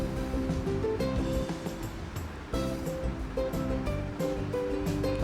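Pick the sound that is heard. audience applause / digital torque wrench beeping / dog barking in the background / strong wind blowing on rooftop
strong wind blowing on rooftop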